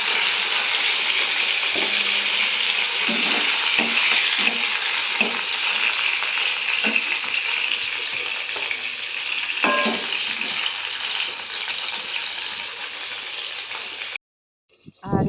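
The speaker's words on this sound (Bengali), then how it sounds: "পটলটা ভাজছি" Pointed gourd (potol) pieces fry steadily in hot oil, giving a bright, continuous sizzle with occasional soft knocks of a spatula, then cut off abruptly near the end.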